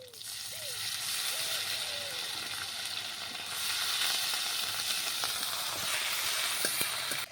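Onion paste hitting hot oil in a pan, a steady, loud, close hiss of frying that swells a little partway through and carries on unbroken.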